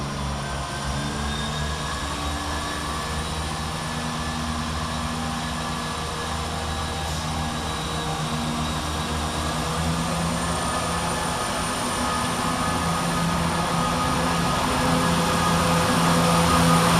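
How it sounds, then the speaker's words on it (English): A ScotRail diesel train pulls away from Edinburgh Gateway station, a steady loud engine drone with a low rumble and thin high tones, growing slightly louder as it departs. "we see the departure of 17409 with the 1017 Scotrail service from Edinburgh Waverley to Glenrothes with Thornton via"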